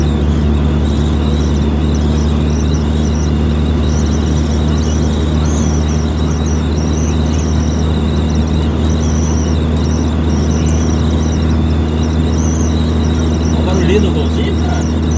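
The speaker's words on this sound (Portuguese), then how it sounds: "Mas olha o barulho de escapamento dele." A VW Gol car engine and exhaust drone steadily and loudly from inside the moving car, with a thin whistling squeal on top and someone talking throughout.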